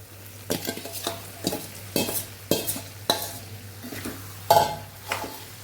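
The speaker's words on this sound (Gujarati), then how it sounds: "અહીંયા હવે આપણે ફ્લાવર અને બટેકાને ઉમેરી દઈશું" Fried cauliflower and potatoes stirred into a gravy for a Kathiyawadi restaurant-style vegetable dish: a series of close, regular scraping and clattering stirs in a pan over a faint sizzle.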